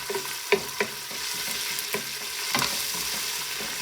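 Tomato paste and onions cooking in a pan give a continuous soft sizzle with occasional spoon taps and scrapes, close by and moderately quiet, no talk.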